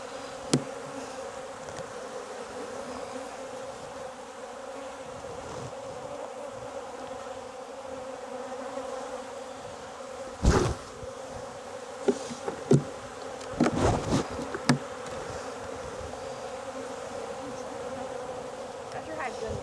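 Honey bees hum steadily around their beehives outdoors in Jacksonville, Florida, with occasional louder buzzes as single bees fly close past and faint voices in the background.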